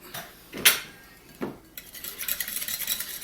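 King crab cake mixture with garlic and Worcestershire sauce being stirred in a bowl, a few sharp utensil clinks against the dish followed by a stretch of softer, continuous scraping and mixing.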